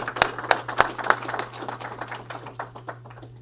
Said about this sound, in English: And your big round of applause,